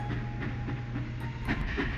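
A train rolls along its rails with a steady, dense rumble and faint clattering, loud and continuous throughout, with a hiss at the top and no voices.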